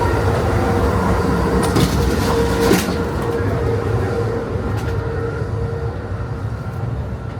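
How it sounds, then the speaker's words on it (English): A Southwest Chief train car rolls across flat farmland on rough track, giving a steady loud rumble with occasional clanks and jolts as the car bounces, then easing slightly toward the end. "it's getting a little rough here. Car's been bouncing quite a bit."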